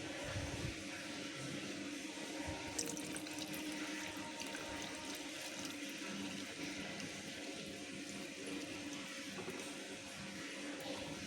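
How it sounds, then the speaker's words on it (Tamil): Milk (about 150 ml) is poured through a filter for an agar agar jelly, giving a continuous, fairly faint watery rush with a light splattery texture from start to finish. "ஒரு ஃபில்டரை வச்சு நீங்கள் வச்சுருக்க பால் எந்த ஒரு ஆடையோ டஸ்ட்டோ இல்லாமல் இதில் வடிகட்டி விட்டுருங்க"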